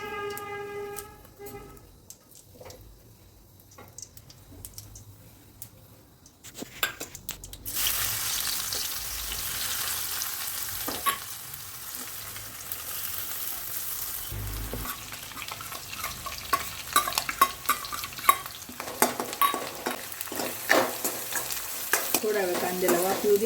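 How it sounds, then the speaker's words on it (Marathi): Oil heating in a pan as tempering spices and onion go in for Marathi-style egg rice, building to a steady, broad sizzle and crackle after a quieter start, with intermittent scraping and stirring clatter close by. "आता मी याच्यात तेल घेते। आता आपण फोडणीसाठी साहित्य टाकूया।"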